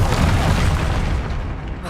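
Bombarda explosion spell in the video game Hogwarts Legacy, a loud close booming blast with a deep rumbling body that fades slightly over about two seconds.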